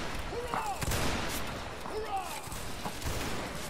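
Musket and artillery fire during a Napoleonic Wars siege battle in Mount & Blade: Warband, a steady rumble of distant volleys and booms with voices talking over it.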